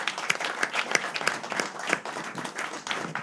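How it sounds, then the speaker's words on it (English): An audience at an Indian National Bar Association event breaks into a burst of applause, dense clapping that holds steady for a few seconds close to the microphone. "can we have a huge round of applause again?"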